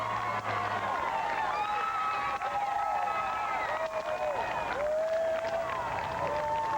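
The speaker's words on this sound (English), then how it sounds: "Just listen to this crowd." Roadside crowds cheer and shout along the 1998 Boston Marathon course as the lead pack passes, a continuous lively roar with rising whoops and yells carried at a distance, broadcast commentary talking over it.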